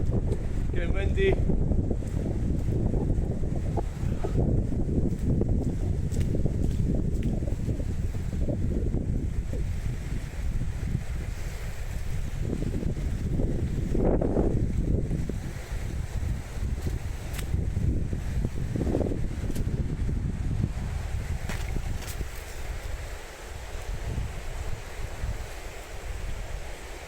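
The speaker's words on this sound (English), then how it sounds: "Getting windy." Strong wind buffets the microphone beside a roundabout near Stirling, Scotland, a constant low roar with gusty surges swelling and fading throughout, loud and close, with occasional passing traffic mixed in.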